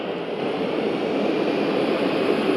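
A cargo aircraft coming in to land in the Aerofly 2 flight simulator game, a loud steady engine drone with a constant roar and a faint high whine, even throughout with no talk.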